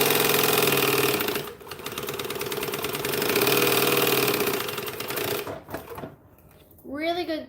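A sewing machine runs fast while basting a bag together, a loud continuous mechanical whir that slows and stops near the end, followed by a brief voice.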